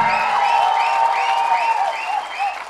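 Audience clapping during a Tamil public speech, a dense steady round of applause filling the whole stretch, loud and close with crowd noise mixed in.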